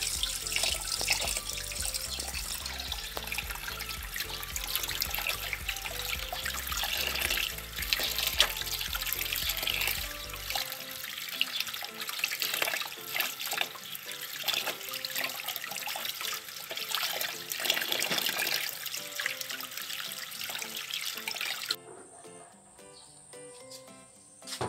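Tap water running steadily into a sink while a fish is washed clean after scaling and gutting, a continuous close rush and splash with some shifting as the hands move, ending abruptly near the end.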